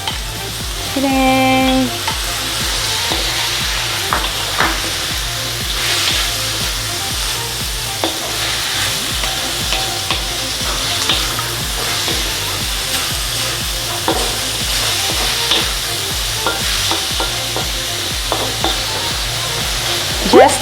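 Carrots and beans stir-frying in a pan give a constant close sizzle, broken by repeated scraping, stirring and clattering strokes, with a brief spoken exclamation near the start.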